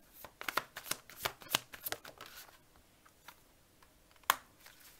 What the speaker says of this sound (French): Je vais quand même tirer la dernière carte.